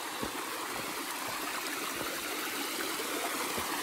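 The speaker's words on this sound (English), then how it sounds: "Nice little stream here. A little waterfall coming down." A small mountain stream with a little waterfall on a Washington trail gives a steady, close rush and trickle of water with no voices.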